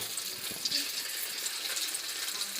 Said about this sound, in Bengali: গরম তেলে যখন চিকেন ছাড়ছে কত সুন্দর লাগছে